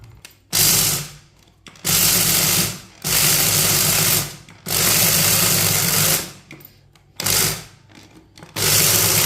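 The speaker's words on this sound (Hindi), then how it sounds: "इसे अच्छी तरह ग्राइंड कर लेते हैं।" A kitchen grinder runs in five bursts, whirring loudly as it grinds roasted black chickpeas, with short pauses between the bursts and no talking.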